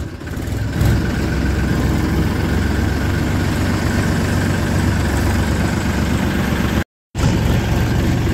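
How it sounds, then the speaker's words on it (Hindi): A small, plain Massey Ferguson tractor engine runs steadily nearby with a constant low, rumbling drone that stays level throughout, broken only by a brief cut near the end. "आगे जो है बड़े भाई का ट्रैक्टर चल रहा है, जो कि आपने पहले मेसी मील में देखा है।"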